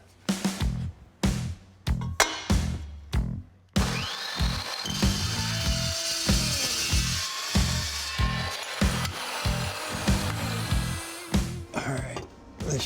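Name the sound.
chop saw cutting exhaust pipe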